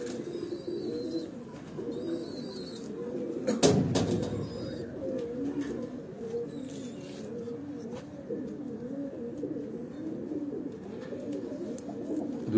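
Pigeons on a Lahore rooftop loft coo in low, soft, repeating murmurs throughout, with faint higher chirps, one brief louder flutter or knock near the middle, and steady background noise.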